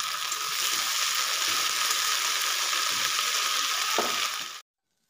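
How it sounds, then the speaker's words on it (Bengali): Amaranth greens (note shak) frying lightly in leftover oil in a pan, a steady close sizzle with faint stirring scrapes, running alone for several seconds before cutting off abruptly. "এখন আমি যেটুকু তেল অবশিষ্ট আছে তার মধ্যে নটে শাক তুলে হালকা করে ভেজে নিচ্ছি"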